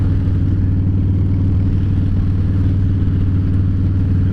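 A motorcycle set up for fun runs steadily nearby, a loud continuous engine rumble with a low throbbing drone that holds even throughout, with no voices over it.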